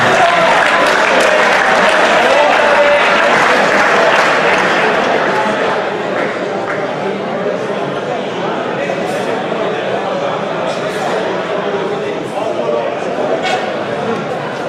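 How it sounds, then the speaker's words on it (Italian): Audience applause at a 2018 end-of-year awards evening, a dense, loud wash of clapping from a large crowd that stays steady for about fifteen seconds and eases slightly toward the end. "un applauso."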